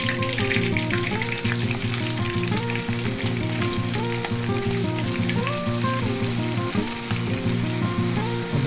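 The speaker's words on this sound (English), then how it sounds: "I popped a bit into the pan, into the wok, just to see if it's hot enough" Whitebait deep-frying in hot oil in a wok, a steady dense crackling sizzle that holds at a constant loud level throughout, with no voices over it.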